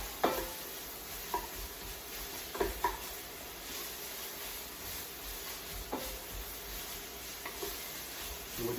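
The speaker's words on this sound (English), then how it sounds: "we're just gonna really just sort of saute that up." Peppers sauteing in olive oil in a pan, a soft continuous sizzle broken by occasional clacks and scrapes of a utensil stirring, close and fairly quiet with no talking.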